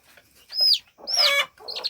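A small backyard flock of chickens is heard close up, with two clear rising squawks and then softer clucking calls over about two seconds, no talking.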